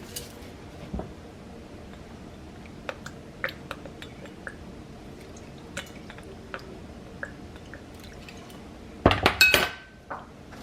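Cut pork skin being stirred with salt and vinegar in a bowl, heard as soft scattered clinks and scrapes of utensil on dish, ending in a short burst of louder clattering near the end.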